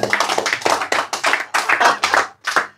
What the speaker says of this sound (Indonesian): Tepuk tangan untuk Pak Manar